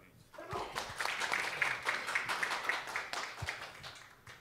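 A crowd applauds steadily for several seconds at a university conference, a dense patter of many hands clapping at moderate volume, with a brief voice beneath it.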